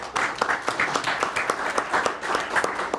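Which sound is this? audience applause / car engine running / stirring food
audience applause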